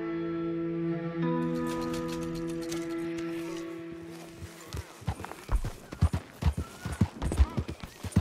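Horse hooves clip-clop in Red Dead Redemption 2 as a horse is ridden through town. A steady engine-like drone plays first, then irregular, distinct hoof strikes grow louder and quicken toward the end.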